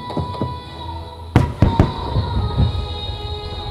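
Fireworks at the Akagawa fireworks festival burst in several sharp booms, a couple close together, over a steady hum of crowd and distant crackling.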